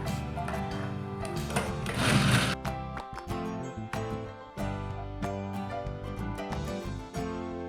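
A sewing machine stitches along the hem edge of a ladies' shirt, a steady mechanical whir with rapid needle clatter running throughout, briefly louder and rougher around the middle, close and clear with no talk.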